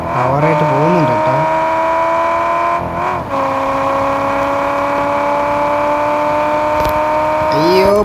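A racing video game car holds a steady, high whining engine note at sustained revs. It is loud and continuous, with brief dips and shifts in pitch as it drives on.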